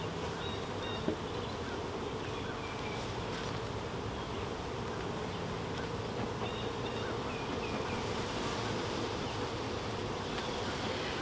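Many honey bees hum in a thick, unbroken drone around an open hive box, the buzz close and even from start to finish with no voices.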